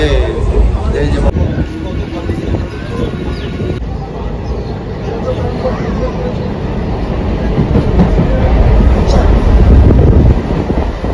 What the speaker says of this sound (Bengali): তো একদম 7:52 ট্রেন একদম রাইট টাইমে ছেড়ে দিয়েছে।